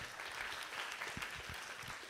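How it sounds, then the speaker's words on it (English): A conference audience at a high school students' event on inquiry and practice around the SDGs claps to welcome professors, an even, continuous patter of many hands at moderate level. "Please give them a big round of applause."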